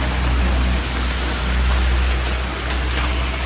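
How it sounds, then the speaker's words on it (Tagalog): Steady rain pours down outdoors, a dense, loud hiss of drops drumming on surfaces with no pauses and no voices. "Umuulan, papunta kami kay Ate Elsie"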